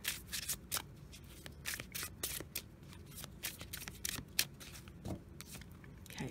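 A deck of goddess casting oracle cards is shuffled by hand up close, giving a quick series of crisp riffles and flicks in irregular bursts.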